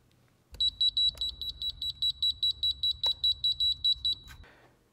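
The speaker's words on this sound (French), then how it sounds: "Le VAT émet un signal sonore et visuel." A voltage tester used in an electrical lockout on a Golf GTE beeps in a rapid series of about fifteen short, high, evenly spaced pips over a low hum, close and clear.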